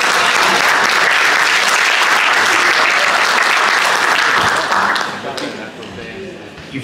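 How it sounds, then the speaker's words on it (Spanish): Loud, dense audience applause at a local history talk held on a radio station, honoring a basketball and football player, sustained for about five seconds before thinning out into scattered claps and room noise. "Quiero un aplauso para él."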